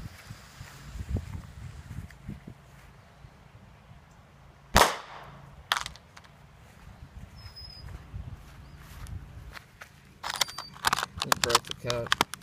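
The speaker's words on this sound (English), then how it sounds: "let's light some of these firecrackers. All right, I've got one under a cup here." A Bad Boy firecracker set under a cup goes off outdoors with one sharp, loud, close bang, followed by a few fainter snaps and rustles amid low background noise.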